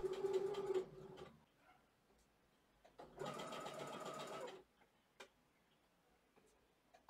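A sewing machine stitches bias binding onto a dress with a rapid mechanical rattle. It runs in two nearby bursts separated by quiet, with a few faint clicks and taps in between.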